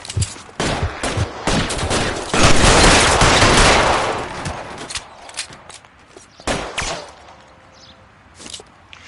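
Gunfire in the video game L.A. Noire during a police shootout: a rapid volley of loud shots builds into a dense burst of sustained fire, then tapers to scattered single cracks and a faint tone.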